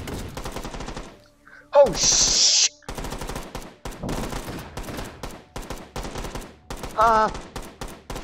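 Shotgun fire in the VR game H3VR, a series of sharp, separate blasts spaced through the stretch, each followed by a short tail, with someone talking in between.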